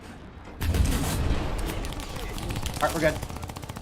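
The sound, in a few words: tank guns firing in a video game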